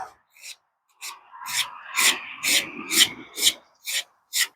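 A pruning blade's bevel is worked by hand with a small piece of 220-grit sandpaper during sharpening, producing a series of about nine close, rasping strokes in a steady back-and-forth rhythm, with no voices.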